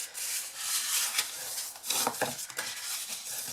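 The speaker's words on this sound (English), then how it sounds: "So we'll just go along, fold and burnish all of those." Score lines on a card favour box are folded and burnished, close, soft papery rubbing and scraping strokes in an irregular rhythm, with no talking.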